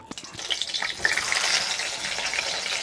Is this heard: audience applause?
no